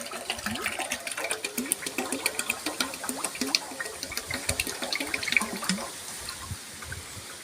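Iluppai (mahua) oil poured into a vessel for a herbal joint-pain oil, a steady close liquid stream with continuous gurgling and splashing throughout, no talk.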